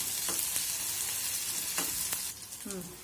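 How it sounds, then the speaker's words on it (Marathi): Onion fries in a pan for a homemade vegetable dish, giving a loud, continuous close-up sizzle with a few scraping stir strokes; the hiss drops slightly near the end. "आता कांदा कांदा छान असा परतून घेऊया आपण"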